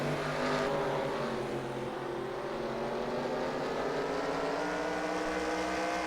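Race cars circle a speedway bullring track in a heat race, a steady, distant roar of engines droning continuously with no speech.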